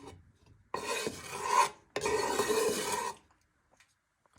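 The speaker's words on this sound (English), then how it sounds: "get your wooden spoon and just give that a little bit of a stir" Two bursts of scraping and rubbing as a wooden spoon stirs chicken in a hot frying pan, each lasting about a second, separated by brief quiet.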